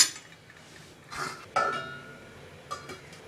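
A metal lid clinks onto a pot of cauliflower gravy cooking on the stove, a couple of short clattering knocks followed by a fainter tap amid quiet kitchen background.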